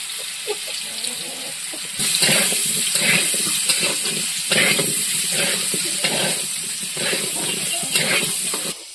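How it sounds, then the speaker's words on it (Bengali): Turmeric-dusted potatoes fry in oil in a kadai for a chicken curry, giving a steady bubbling sizzle that swells louder after the first couple of seconds and continues close and unbroken, with no talk. "এবারে আমরা কড়াতে আলুটা ভালো করে ভেজে নেব।"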